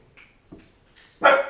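A dog barks a few times at close range, with short, sharp yelps building to a louder final bark, and no talk over it.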